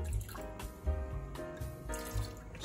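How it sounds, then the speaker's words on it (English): A small splash of white wine pours into a pot of tomato and basil sauce, giving a brief gurgling liquid trickle with faint stirring clatter, close and fairly quiet with no talking. "I'm gonna go with just a small splash of white wine"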